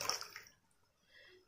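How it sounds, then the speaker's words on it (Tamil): Water splashes briefly into a pot of milagai killi sambar. A short burst of pouring is followed by faint sloshing as it settles, close and without talk. "இந்த சாம்பாருக்கு தேவையான தண்ணி ஆட் பண்ணிக்கலாம்."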